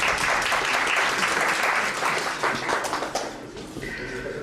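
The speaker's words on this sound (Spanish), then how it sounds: "Un aplauso para Efraín" Audience applause for Efraín at a book presentation, a dense burst of many hands clapping that tapers off toward the end.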